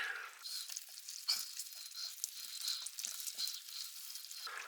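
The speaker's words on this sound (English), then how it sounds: "At this stage we put in all our orange juice. Stir that in." Orange juice is stirred into a chicken stir fry in a hot pan, giving a steady hissing sizzle with scattered scraping clicks from the stirring, close and even throughout.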